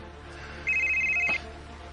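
A mobile phone rings with an incoming call, a short electronic ringtone tone lasting under a second, fairly close and clear over a low room hum, with no talking.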